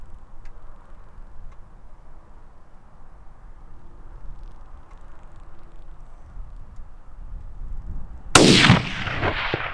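A single loud rifle shot fired at a mule deer in Wyoming from about 350 yards cracks out near the end, breaking a quiet, faintly breezy outdoor stretch and trailing off in a short echo.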